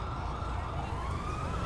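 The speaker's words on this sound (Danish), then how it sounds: "Jeg kan høre ambulancen nu." Ambulance siren in the video game GTA, a steady wailing tone sweeping slowly upward, heard continuously at moderate distance over a low rumbling background with no one speaking.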